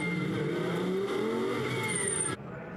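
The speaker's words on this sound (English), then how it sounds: "a glorious noise as he accelerates and then brakes to generate the warmth in the tyres and brakes" A Lamborghini Super Trofeo race car engine at Silverstone roars loudly, pitch climbing and sliding as it accelerates and brakes, then cuts off abruptly near the end.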